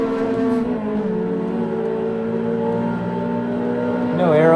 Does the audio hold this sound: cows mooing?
no